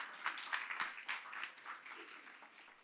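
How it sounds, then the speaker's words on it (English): An audience at a talk about newborn care claps in a loose, scattered round, with individual claps standing out as the applause trails off quietly. No one speaks over it. "go ahead and clap if you would"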